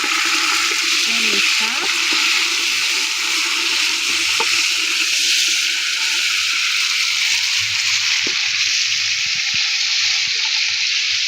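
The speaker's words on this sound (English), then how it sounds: "We are going to add our meat." Meat sizzles and fries in a pot of pilau over a village cooking fire, a loud steady hiss filling the whole stretch, with a brief spoken remark near the start.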